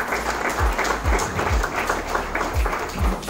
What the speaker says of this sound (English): round of applause for Denzel